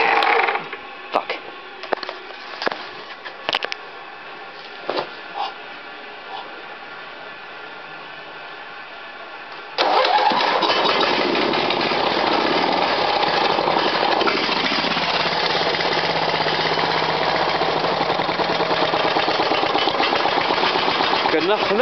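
A 49cc two-stroke engine on a homemade motorized bicycle, rattling a bit: several sputtering, uneven firing bursts at first, then it catches and runs at a steady, loud, buzzy high-revving drone, close up.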